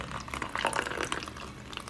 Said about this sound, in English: So all I'm gonna do is just add some water to it.